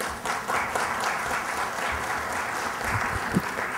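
Audience applause at a formal government event on personal data protection, a steady wash of clapping from a sizable crowd, moderately loud and sustained for a few seconds without talk.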